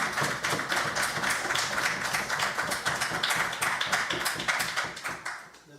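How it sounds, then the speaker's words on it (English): Applause from an audience: a dense, steady patter of many hands clapping close by at an official address, holding even for several seconds before thinning out at the end, with no voices over it. "I pause for an applause."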